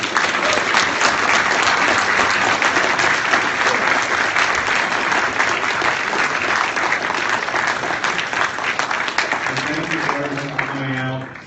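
A large audience at a speaking event claps loudly and continuously, a dense wash of applause that fades near the end as a voice begins to speak.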